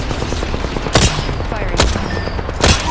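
Gunfire in Apex Legends cracks out as three sharp shots spaced about a second apart, sounding out over a busy, steady battle background.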